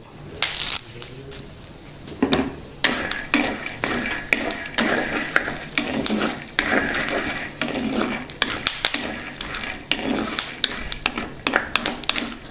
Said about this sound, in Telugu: పల్లీలు వేగుతున్నాయి కదా ఇందులోనే కొద్దిగా కరివేపాకు కూడా వేసి వేయించుకుందాం